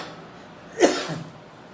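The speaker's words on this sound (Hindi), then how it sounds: "खांसी आ जाए।" A single short cough from a preacher in the middle of a Hindi sermon, close and fairly loud, with near silence before and after.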